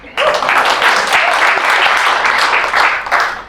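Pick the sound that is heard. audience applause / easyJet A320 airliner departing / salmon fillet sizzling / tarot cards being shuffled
audience applause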